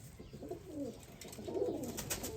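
Breeder's pigeons coo in two soft, throaty rolling phrases, close by against a faint background hiss.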